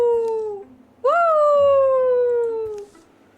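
Disembodied voice in the video game Wildermyth lets out a wailing, dog-like howl: a short falling cry, a pause, then a longer rising-and-falling howl, loud and close.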